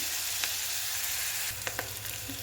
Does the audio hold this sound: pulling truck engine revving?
no